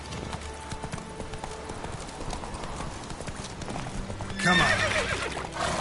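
Horse Roach from a PS4 video game, neighing and clip-clopping at a gallop, hooves pounding steadily throughout with a loud whinny near the end, under game music and a brief spoken line.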